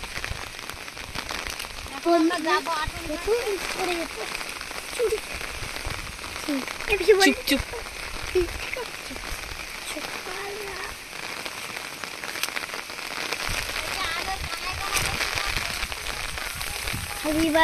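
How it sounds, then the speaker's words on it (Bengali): Heavy rain patters steadily on a surface while a person speaks briefly over it. "প্রচুর বৃষ্টি হচ্ছে"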